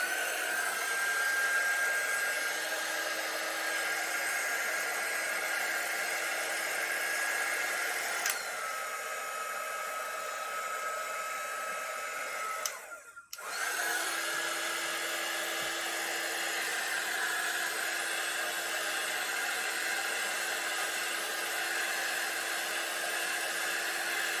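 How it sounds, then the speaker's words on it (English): A heat gun blows over a fresh acrylic paint pour, a loud steady whirring hiss that runs continuously, cuts out briefly in the middle, then resumes at the same level for the rest of the stretch. "So I'm going to hit it with the heat gun a little bit."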